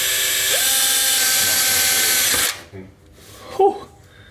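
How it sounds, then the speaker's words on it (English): Power drill whirring loudly and steadily as it bores into an engine's rear main seal during a manual transmission swap, then stopping abruptly, followed by faint clicks and a brief metallic knock. "get your drill and drill into the rear main seal"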